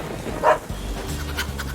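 A puppy in the rain gives a short, close whimpering yelp, then low panting and soft whines over steady background noise.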